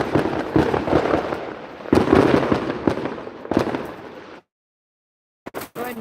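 A neighbor's fireworks grand finale goes off outdoors, with dense, rapid volleys of crackling bursts and booms that rumble on for several seconds, stop in sudden silence, then return as a few sharp late pops.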